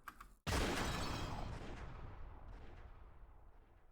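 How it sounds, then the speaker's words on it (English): A single loud gunshot from a handgun in the Umineko visual novel, one sharp blast after a brief quiet lead-in, trailing into a long fading echo with no voices over it. "The black suit cocked the gun and sneering pulled the trigger."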